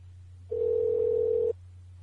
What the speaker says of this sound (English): Bear with me while I dial in.